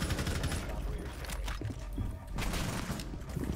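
Rapid automatic gunfire in a video game punches through a concrete wall, a continuous, fairly quiet fusillade of shots with brief lulls, and voices faintly present beneath it.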